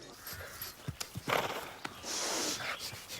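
Horse hooves clop in a few sharp, separate beats amid scattered movement, with a snort or breathy noise, while a person talks.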